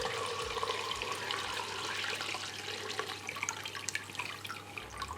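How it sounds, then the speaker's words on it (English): Vodka pours and trickles steadily through a strainer nearby, catching bits of lemon peel, a continuous watery splashing with small drips and clinks. "Strain your vodka so that you catch all of the bits of lemon."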